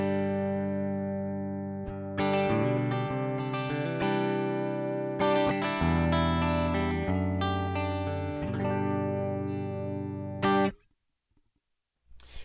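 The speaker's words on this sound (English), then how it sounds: "the drive's turned down, and the voice is turned down pretty far. And that gives you a tone like this." An electric guitar with P90 and SH4 bridge pickups is played through a Joyo AC Tone overdrive pedal with the drive and voice turned down, giving strummed chords and ringing notes that cut off abruptly near the end.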